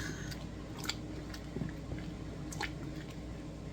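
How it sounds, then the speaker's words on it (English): Crushed tomatoes cooking down in a pot are stirred, giving faint wet squishing and soft scraping sounds with a few small clicks, quiet and close with no talk. "I'm going to get these stirred up. We don't want them to stick."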